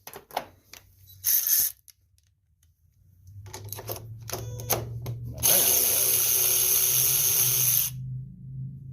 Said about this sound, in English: we want to get these bolts off right here, which is 7/16 socket